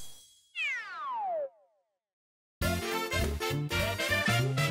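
A cat meows once in Mario Maker 2, a clear, close, falling yowl. After a short silence comes a busy stretch of other game sounds.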